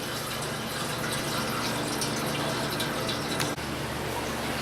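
Tap water pours steadily into a DIY hot tub as it fills, a constant broadband rushing gush with a low pump-like hum beneath, running alone without talk.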